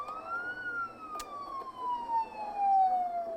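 A police car siren wails steadily in a horror film scene, its tone sliding slowly downward, mid-distance and fairly loud, with faint background noise and a brief click.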